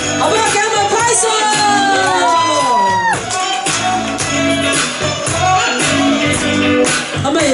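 A lively crowd at a church Christmas flash-mob concert cheers and whoops loudly, with high rising shouts and excited voices layered into a dense, continuous roar.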